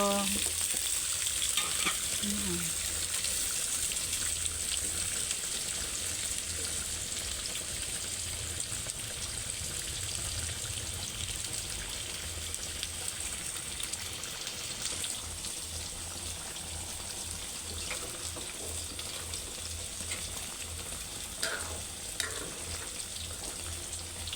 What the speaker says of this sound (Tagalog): yung patatas at carrots ay kailangan iprito